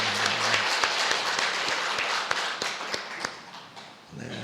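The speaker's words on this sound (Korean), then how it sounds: "하나님께 영광의 박수 올려드리겠습니다" A church congregation applauds during a Sunday worship service, a dense, close wash of clapping that gradually thins and fades, with voices audible near the end.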